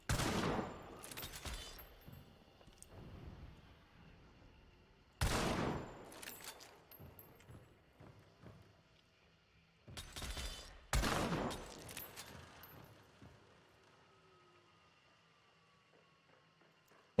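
Gunfire in a video game, three loud bursts of rapid shots a few seconds apart, each trailing off into fainter scattered pops and echoes, no talk.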